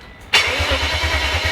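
A car engine cranks and fires into life with a sudden loud burst, then settles into a steady rumbling idle, close and without talk.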